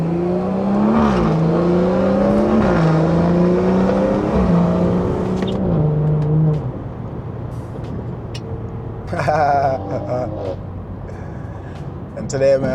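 A BMW 340i with the B58 engine revs hard during a drive, its engine tone rising and falling over about six seconds before settling into a lower rumble with scattered exhaust pops and burbles. Someone talks over part of it.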